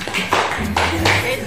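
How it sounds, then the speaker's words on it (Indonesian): A classroom of students claps in a quick group pattern of three sharp claps in about a second, loud and close, overlapping with a voice speaking at the same time. "Yang ketiga, tepuk 3."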